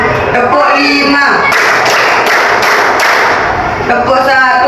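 A classroom of students clapping in unison on the teacher's call for five claps, a burst of loud, closely spaced claps from a group standing indoors, with the teacher's voice heard before and after.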